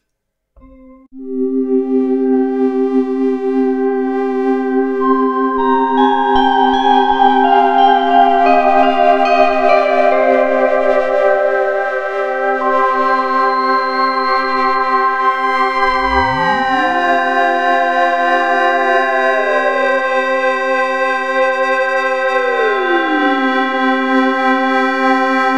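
A Cypher2 synthesizer pad with reverb or delay, a sustained layered chord that swells in and holds, with tones sliding and bending upward partway through under a long ambient wash, no voices.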